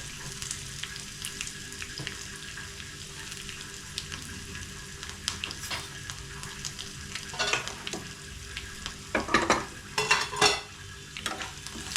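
A tadka of curry leaves and asafoetida fries in hot oil with a steady sizzle, while a spoon stirs and clatters against the pan, growing busier toward the end.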